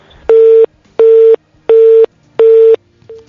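Telephone busy tone after a dropped call: four loud, steady beeps of equal length in an even rhythm with short gaps between them, and a fifth cut off at the end.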